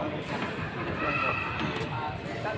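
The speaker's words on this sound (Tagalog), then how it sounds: "Ayun ang kabayo." A horse neighs and whinnies close by, mixed with hoof clops and a busy outdoor bed of noise, with voices talking over it.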